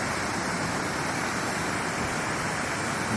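Fast, swollen floodwater churns in a continuous heavy roar, near and loud, steady throughout with no one speaking.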